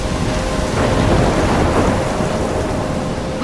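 A thunderstorm roars loud and close in Life is Strange, dense pouring rain with a deep continuous rumble of thunder filling the whole moment.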